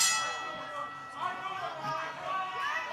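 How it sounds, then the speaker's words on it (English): A wrestling ring bell clangs at a professional wrestling TV taping, bright metallic ringing with lingering overtones heard moderately close under crowd and commentary voices. "Ring the bell."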